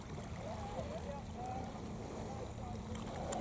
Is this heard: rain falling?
no